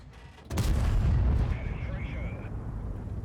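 An FV215b heavy tank's cannon fires an AP round in World of Tanks with a single sharp, heavy boom that rolls into a long rumbling decay.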